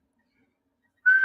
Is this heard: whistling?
yes